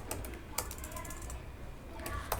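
Quick clattering keystrokes on a computer keyboard, close and fairly quiet, in short bursts over a low background hum.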